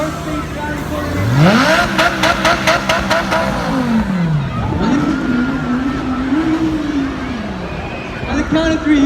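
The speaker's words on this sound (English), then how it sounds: "We got an Audi R8 from North Face County pulling in." An Audi R8 sports car pulls in at a carnival exotic car show, its engine revving up and down several times close by, with a crowd and announcer talking over it.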